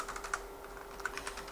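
Steady typing on a computer keyboard, a fairly even stream of soft, close key clicks over a constant low electrical hum with no voices.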